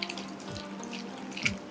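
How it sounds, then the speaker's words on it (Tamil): Water trickles steadily into dosa-style batter for munthiri kothu as it is mixed, a soft continuous running-water sound with a brief splash near the end, close and fairly quiet. "நல்லா கொஞ்சம் கொஞ்சமாக தண்ணி விட்டு நம்ம ஒரு தோசை மாவு பதத்தில் இதை நம்ம கரைச்சிக்கலாம்."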